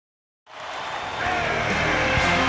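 Arena crowd applause at Toronto's Air Canada Centre during a Houston Rockets versus Toronto Raptors game in NBA 2K10 swells in abruptly from silence into a steady, dense roar of clapping and cheering that grows slightly louder.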